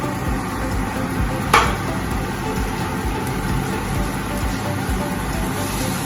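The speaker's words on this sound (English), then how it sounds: "What you're looking for here is to hear them frying." Meatballs fry in warm oil with a steady, crackling sizzle, continuous and fairly loud, with one brief sharp pop early on.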